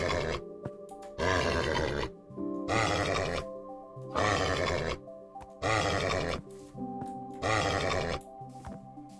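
Horse neighs in Minecraft, several loud bursts in a steady rhythm with short pauses, each a rough grunting whinny over faint background music.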